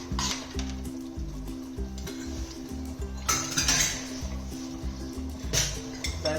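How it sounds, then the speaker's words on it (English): Hot melted butter scraped from a utensil into a pot of Dal Bukhara: close metallic scraping and clinking over a soft sizzle, with a steady rhythmic low backing throughout. "Let's try to get all this butter off."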